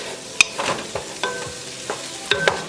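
Fish broth base being stirred in a pot for Guyanese fish broth, giving scattered scraping and clinking strokes with a soft low sizzle underneath, close and fairly quiet, with no talking.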